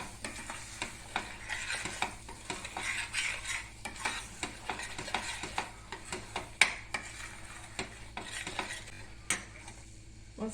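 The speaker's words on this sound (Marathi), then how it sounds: "आता आपण मसाला भाजून घेऊया" Masala roasting in a pan, with a steady soft sizzle and a spoon repeatedly scraping and clinking against the metal in uneven strokes, close up and alone.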